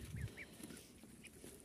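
Ducks quack a few times, faint and distant, over quiet outdoor background noise.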